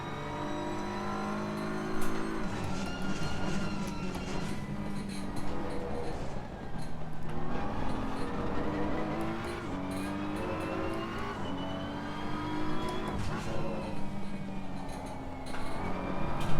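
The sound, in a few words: BMW car driving a hot lap at Laguna Seca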